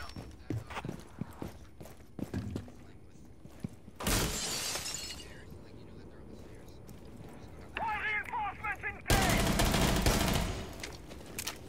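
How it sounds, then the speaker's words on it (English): Barricades break in a custom multiplayer video game match: two loud, sharp crashing bursts about five seconds apart, with people talking around them. "I heard a barricade break behind me."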